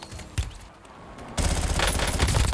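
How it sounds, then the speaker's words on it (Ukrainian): Rapid-fire assault rifle in the Warzone video game: a brief single shot, then a dense unbroken burst of automatic gunfire that runs loud and close to the end. "Максимально скорострільний автомат, ви бачили?"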